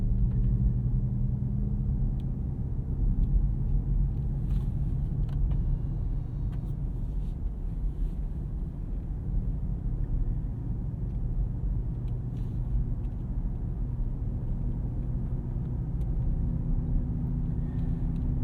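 A 2024 BMW XM Label, a 738 hp plug-in hybrid SUV, drives at around 35 to 40 mph. A steady, low cabin rumble with road noise holds throughout, with no talking.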